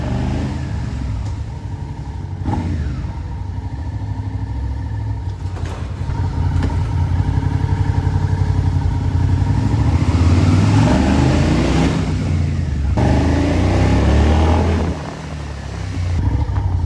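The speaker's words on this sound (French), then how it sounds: "je vais juste mettre le son de la moto" A motorcycle engine runs steadily and loudly, its rumble rising and swelling as it revs, then dropping back near the end.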